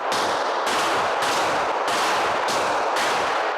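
Rapid, continuous gunfire at police shooting training in Ukraine, in sustained bursts of a second or less, loud and harsh, with no voices.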